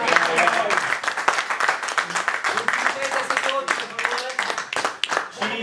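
An audience applauds at a political meeting in Milan, clapping rising and falling under voices that carry through much of the moment.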